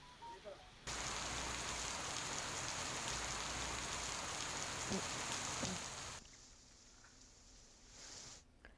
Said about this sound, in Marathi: पालघर जिल्ह्याला सुद्धा मुसळधार पावसानं झोडपलंय